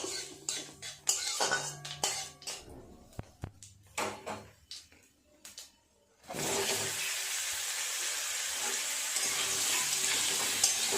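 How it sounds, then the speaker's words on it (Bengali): Raw mango pieces frying in mustard oil with dried chilli and five-spice seasoning for pickle: clattering spoon stirs and bursts of sizzle at first, then a loud, steady close sizzle. "একটু ভালো করে নেড়ে চেড়ে নেব আমগুলো।"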